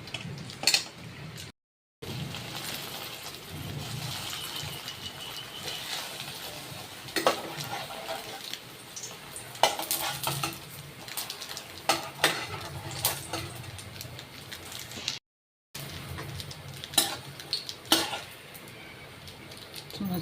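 Bread fries lightly in a pan for bread halwa, with faint sizzling under scattered utensil clinks and stirring scrapes, interrupted by brief gaps.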